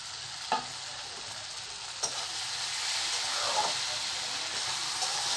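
Steady sizzling of tomato and onion frying in a pan, with a couple of sharp clinks from stirring and a constant bright hiss throughout.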